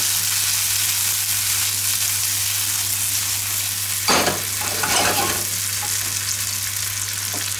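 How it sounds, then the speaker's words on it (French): Gnocchi fry in a very hot pan with a steady loud sizzle, broken midway by a few scraping stirs and tosses, with no talk. "On les fait légèrement revenir."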